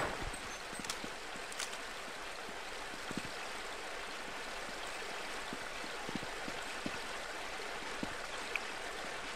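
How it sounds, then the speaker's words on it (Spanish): Water pours continuously in Half-Life: Blue Shift, a steady broad rushing wash with no breaks, joined by faint scattered clicks and knocks. "Se cayó el agua."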